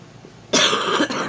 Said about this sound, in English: I am really tired of coughing.